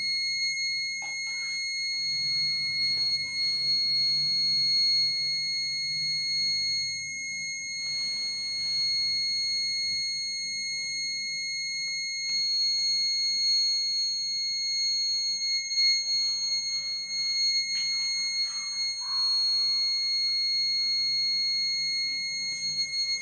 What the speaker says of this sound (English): See, the buzzer will on.